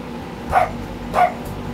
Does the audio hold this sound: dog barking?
yes